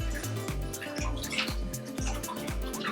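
Water pours from the pump of a RecoverFun portable cold tub in a steady splashing stream, with a low rhythmic pulsing from the pump underneath and no voices.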